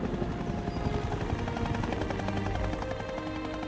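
Helicopter rotor chop from a scene in the 2001 film Spy Game, a steady loud thumping drone with dense mechanical noise throughout, no talking.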